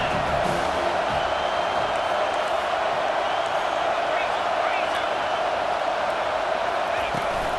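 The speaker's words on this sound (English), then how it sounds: "this crowd is turning it up a notch" A stadium crowd roars in EA Sports College Football 25 during an Oregon versus USC matchup, a dense, continuous wash of noise that holds level the whole time, with a voice talking over it.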